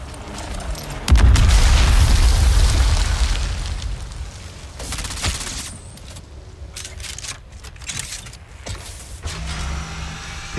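An exploding Nerf ball blows up in a video game with a loud booming blast that rumbles and crackles for several seconds before fading into scattered clicks and clatter.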